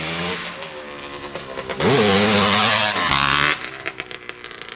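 Engine of a 1973 Suzuki TM250K two-stroke dirt motorcycle digging into dirt, a loud buzzing rev that surges to a sustained peak midway, then drops back to choppy, uneven bursts.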